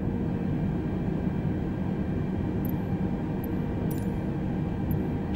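Airbus A320neo airliner taxiing on the ground, a steady broadband engine rumble and whine heard from inside the cabin, constant and unbroken, with a few faint high clicks.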